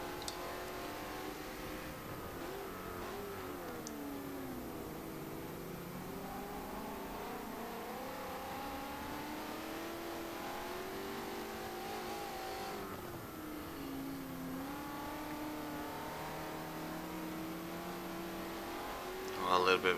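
Touring race cars in a circuit race, engines droning and revving continuously as a pack runs through corners, with commentary talking over them throughout.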